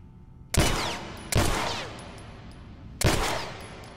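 Gunfire aimed at a lock in The Last of Us Remastered, Left Behind: three sharp, loud shots, the first two close together and a third after a pause, each trailing into a decaying echo.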